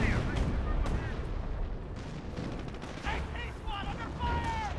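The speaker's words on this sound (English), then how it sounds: "I think we're going to see Officer Artillery here" Officer artillery fire in Company of Heroes, a real-time WWII strategy game: booming shell blasts and gunfire crackle through dense battlefield noise, with high whistling tones around the midpoint, while a commentator talks over the action.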